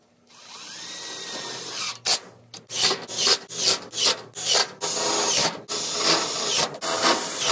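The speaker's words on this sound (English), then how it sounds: "For screwing it down, I'm just using these roofing screws." Roofing screws driven with a power drill through metal sheet on a DIY raised planter box built from leftover materials: a rapid series of loud, close grinding bursts, each rising and cutting off, after a quieter whine at the start.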